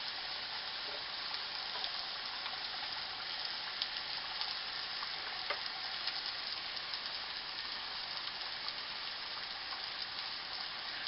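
Steak sizzles and fries steadily in a pan, a constant crackling hiss with small pops, fairly quiet and without talk, while a French dip sandwich dinner is cooked.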